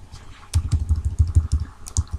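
Rapid keystrokes on a computer keyboard while entering a name in Discord's Tupperbox, a quick run of close, crisp clicks, about a dozen taps in uneven rhythm.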